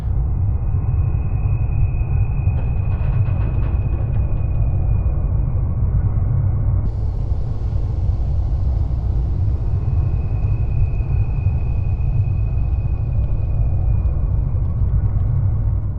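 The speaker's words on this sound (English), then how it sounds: "this very eerie sound of a train braking in the distance, mixed into the ambience" Steady low rumbling ambience in the video game Cyberpunk 2077 with a thin, drawn-out metallic squeal of distant train brakes, eerie and continuous, with no voices.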